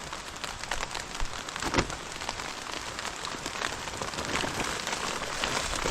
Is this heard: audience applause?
no